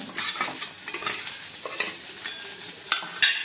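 Onion, garlic and curry leaves sizzle steadily in hot oil with red-fried potato, with scattered stirring scrapes and small crackles in a home Maharashtrian okra-potato dish, close and continuous with no talking.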